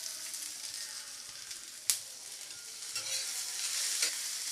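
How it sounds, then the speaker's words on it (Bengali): Capsicum, onion and tomato tossed in a pan over a high flame, giving a steady faint sizzle with a sharp clatter of the stirring spoon near the middle and a few softer scrapes toward the end. "এটাকে একটু হাই ফ্লেমে আমি টস করে নেব।"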